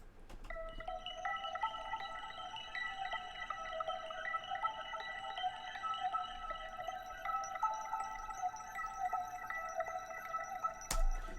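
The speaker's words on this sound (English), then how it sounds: "And then I added a reverb to it and a Valhalla Supermassive on the" A mallet-bell melody drenched in Valhalla Supermassive reverb on the Gemini preset, sustained bell tones ringing together in a long, shimmering wash at moderate level, alone, ending with a brief sharp click.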